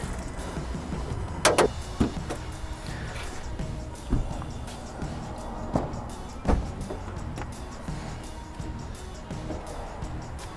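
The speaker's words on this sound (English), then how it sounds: "We popped the hoods on both of these here." The hoods pop open on a Hellcat Challenger and a Hellcat-powered Gladiator truck: a few sharp latch clicks and thumps, spaced seconds apart, over a quiet background.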